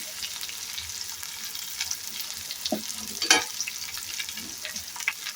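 Cauliflower fry with turmeric and salt stirred in a hot pan, a continuous low sizzle broken by scraping spatula strokes and a couple of louder clatters near the middle.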